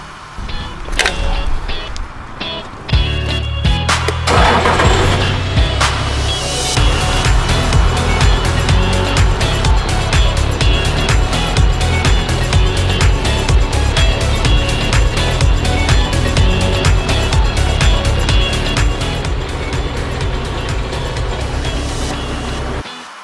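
A car drives over freshly patched pavement repaired with a fast-setting polymer-modified patching material, giving a loud, continuous engine and tyre rumble that builds after a brief lull, with rattling noise and no speech.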